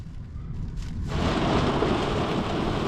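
Heavy rain pours down in a storm, starting as a light patter and swelling about a second in into a loud, steady roar of downpour that holds to the end.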